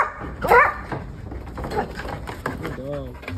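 A dog gives a short bark, then whimpers and whines in brief strained bursts at close range, with people talking around it.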